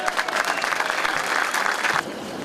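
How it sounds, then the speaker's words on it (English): A warm round of applause for Bob Miller at the unveiling of Chick Hearn's statue, a crowd clapping close and steady for about two seconds before the sound drops back to a softer tail. "Please give a warm round of applause for Bob Miller."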